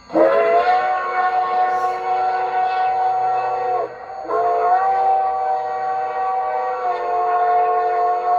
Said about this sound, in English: F2 is the crossing whistle.